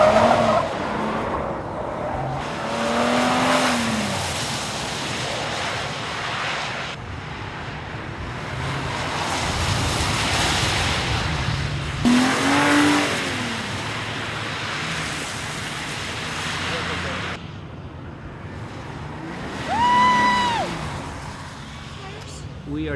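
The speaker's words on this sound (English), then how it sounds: "The track was watered down to give the tires and the drivers a real workout" Cars driven hard on a watered-down test track at a driving school, trying out Bridgestone and other tires: continuous engine roar and spray with repeated rising tire squeals, while a voice talks over much of it.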